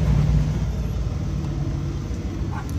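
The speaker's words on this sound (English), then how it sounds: "Peter Vollers is driving this really nice CJ5" A Jeep CJ5 crawls along the Rusty Nail off-road trail in Moab, Utah. Its engine gives a low, steady mid-distance rumble with slight revving, and no voices are heard.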